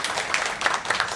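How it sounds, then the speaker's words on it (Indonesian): A brief stretch of dense audience clapping at a church family-education event, steady and moderately loud, with no voices on top. "Boleh kasih tepuk tangan dulu untuk Miss Gloria."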